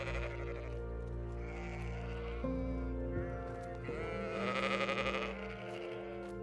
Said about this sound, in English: one of which is the Walia ibex, a kind of wild goat